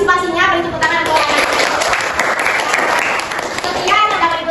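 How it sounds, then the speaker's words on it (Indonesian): Classroom-sized group clapping at a digital microteaching session, loud and close, with a voice talking at the start and end over the applause. "Beri tepuk tangan untuk"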